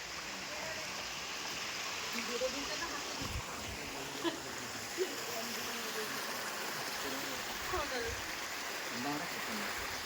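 Mountain stream water at Chakratirtha, Keonjhar, Odisha flows steadily in a continuous broadband rush, with faint, indistinct voices heard now and then beneath it.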